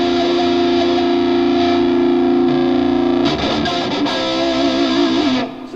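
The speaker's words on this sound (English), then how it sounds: "So we'll do a little wah pedal action." Distorted electric guitar through a Digitech iPB-10 pedalboard modeler on a Marshall amp model holds a sustained note, then wah pedal sweeps make the tone wobble and quack over the last few seconds, loud and close, no voices.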